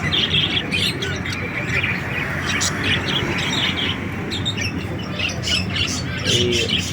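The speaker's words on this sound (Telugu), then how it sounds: "ఇక్కడ రకరకాల పక్షులు" Many birds chirp and squawk together in a dense, continuous chorus over a steady noisy background, with calls overlapping from several directions.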